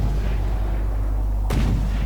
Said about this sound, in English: The blind fire missiles being fired here, doing minimal amounts of damage